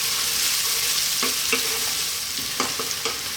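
Parboiled potatoes sizzle and fry in a pan over high gas heat, with a steady hiss broken by repeated scraping stirs of a utensil, close and fairly loud, no talking.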